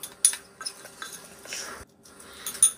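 A spoon stirs guava curry with fresh coriander in a dish, giving sparse soft scrapes and a few sharp clinks against the vessel, close and quiet with short silent gaps.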